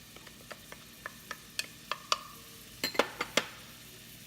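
Chopped onion, green pepper and garlic are stirred in a hot pan with a spoon. A soft sizzle runs under repeated sharp clinks and scrapes against the pan, which come quicker and louder toward the end.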